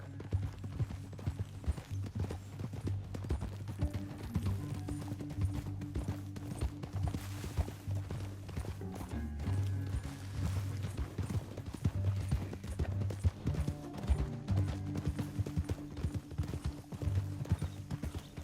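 Steady clip-clop of horse hooves in the video game Red Dead Redemption 2 at a brisk, continuous rhythm over a low droning background, with an occasional whinny, lasting throughout.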